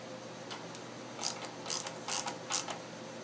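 A compression tester adapter is screwed into the spark plug hole of a Briggs & Stratton small engine, giving four or five quick, faint metallic ratcheting clicks spaced about half a second apart in a quiet room.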